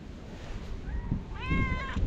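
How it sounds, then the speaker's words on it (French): A cat meows twice, fairly close by, the second call longer and stronger, over a steady outdoor background rumble. "il y en a un autre qui miaule"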